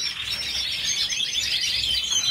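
Songbirds in an aviary chirp and trill continuously, bright overlapping high-pitched calls at moderate distance with a soft low room hum beneath.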